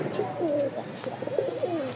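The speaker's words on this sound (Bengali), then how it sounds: "কবুতরটা খুবই ভালো উড়াবাজি" Soft, throaty cooing of a Rajshahi Giribaz high-flying pigeon close by, a few rolling coos in quick succession.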